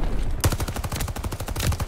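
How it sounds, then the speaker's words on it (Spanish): Rapid automatic rifle fire in the shooter video game Call of Duty Vanguard, a loud close burst of dense repeated shots lasting the full moment. "Le pegué unos tiros."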